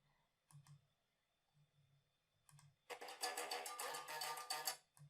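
Mouse clicks while editing in VSDC Free Video Editor on a computer: a few sharp, close clicks in small clusters, then a louder, busier stretch of rapid clicking and clattering near the end.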